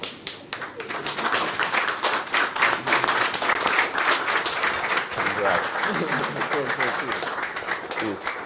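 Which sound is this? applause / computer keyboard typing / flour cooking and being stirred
applause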